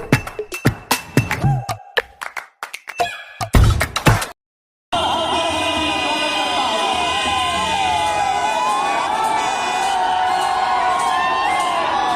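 A crowd cheering and shouting at an outdoor Chirag Paswan political rally, a dense continuous roar with whistles and high shrill calls, preceded by sharp bangs and clatter.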